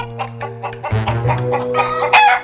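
Chickens cluck in quick, close bursts, and a rooster crows loudly over them partway through, with the clucking and crowing overlapping to the end.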